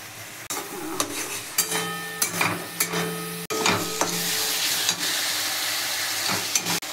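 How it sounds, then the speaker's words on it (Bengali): Spices frying with salt in a hot pan for a sitepati fish curry, a steady sizzle with repeated scraping stirs and occasional clinks of a utensil against the pan, close and continuous with no talking. "লবণ দিলাম, দিয়ে এটাকে ভালো করে কষাবো।"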